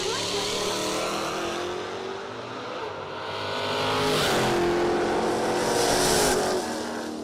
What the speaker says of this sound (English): Pull Riska over in the left lane, the Nova, and put first unknown in the right lane, the Mustang.